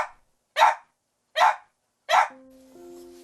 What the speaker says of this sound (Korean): 그 노력이 무색하게 망고는 또 짖기 시작합니다.